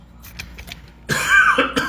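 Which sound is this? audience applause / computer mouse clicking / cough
cough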